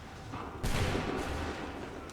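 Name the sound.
musket volley in video game Assassin's Creed III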